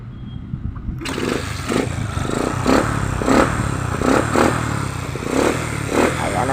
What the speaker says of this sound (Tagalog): Umandar na po yung motor ni Bossing.